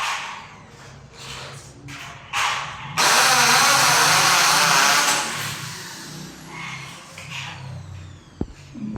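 A power drill whines close by while boring into metal wall framing at a building site, starting in short bursts and then holding a loud, sustained run before easing down under a background hum.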